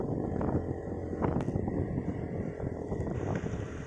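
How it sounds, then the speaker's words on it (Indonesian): Strong wind roars steadily and loudly across the microphone on a mountain road near Cangar, Batu, Malang, with low buffeting rumble throughout and no talk. "Angin ini lur, kenceng pol"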